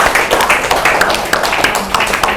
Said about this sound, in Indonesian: Tepuk tangan untuk Nanda.